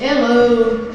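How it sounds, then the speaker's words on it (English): A single voice calls out inside an insulated 3,000-gallon milk tank car at a transportation museum, the short greeting ringing with a sustained, hollow reverberation off the metal interior. "Echo."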